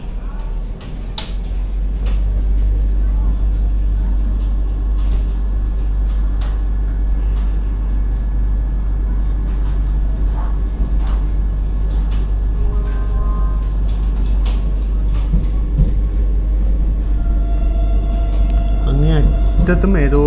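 A Vande Bharat Express on the Nagercoil to Chennai Egmore run pulls away, heard from inside the AC chair car: a steady low rumble and hum of the moving train throughout, with faint clicks and brief tones, and a voice speaking now and then.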